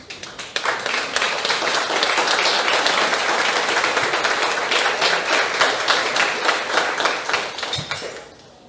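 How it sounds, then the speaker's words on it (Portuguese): A church congregation bursts into loud, sustained applause, many hands clapping together in a dense, steady wash that holds strong for several seconds before thinning out, with a few scattered claps at the end. "Pode colocar a sua Bíblia e aplaudir o Senhor"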